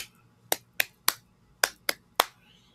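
Six sharp, crisp hand claps, close and isolated against near silence, spaced in a loose uneven rhythm with short gaps between them.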